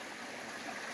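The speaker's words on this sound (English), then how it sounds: "Now this Chapel Brook is a much larger brook, as you can hear" Chapel Brook, a fairly large brook in a Massachusetts nature preserve, flows with a soft, steady rushing and burbling, heard faintly and briefly on its own.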